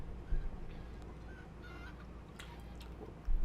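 Poultry in the Test Drive: Eve of Destruction video game, brief squawking and honking calls that are faint and intermittent over a low engine-like rumble, with a couple of louder thumps.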